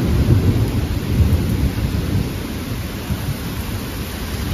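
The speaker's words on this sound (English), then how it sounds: "Very close lightning strike." Deep thunder rumbles heavily from a very close lightning strike during a nighttime downburst, blended with steady rain and gusting wind in a loud, continuous roar.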